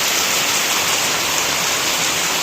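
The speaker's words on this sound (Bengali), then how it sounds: "অজোরে বৃষ্টি নামতেছে।" Heavy rain pours down in a dense, steady wash of hiss, loud and close, holding constant throughout with no pauses and no voices.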